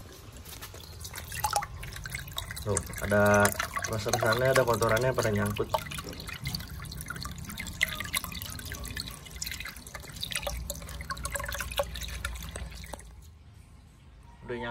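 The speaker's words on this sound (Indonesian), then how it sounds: "Kita bilasin kayak air keran" Water drips and trickles while a dirty fish tank filter is rinsed, with light splashing and flowing bursts around a sink, and a person talks through much of it.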